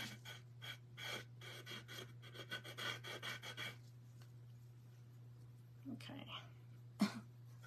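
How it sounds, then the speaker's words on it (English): A wet wipe rubs paint onto a craft piece in quick, soft scrubbing strokes, close and quiet over a steady low hum, followed by a pause and a few faint rustles. "I'm just rubbing this on with a wet wipe"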